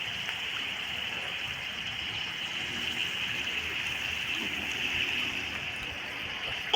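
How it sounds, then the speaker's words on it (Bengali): Spices with salt, turmeric and chilli powder fry in oil, a steady, even sizzling hiss close by, continuous without pops or talk. "আর একটু ভেজে নিই"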